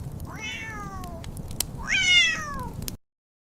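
A cat meows twice at close range, a short falling cry and then a louder, longer one, over a soft low background hum in a room on New Year's Eve.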